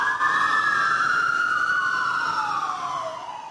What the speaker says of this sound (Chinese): 全岛23个消防局今早响起火警警报